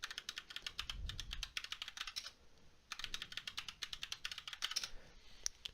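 Rapid typing on a computer keyboard in a shell terminal, two bursts of crisp close keystrokes separated by a short pause, quiet and without speech.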